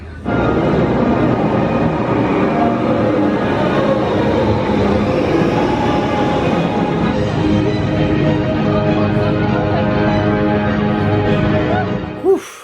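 TRON Lightcycle Run roller coaster ride at Magic Kingdom, Walt Disney World, heard as a steady, loud mechanical rumble and whir with layered tones, continuous for about twelve seconds before cutting off.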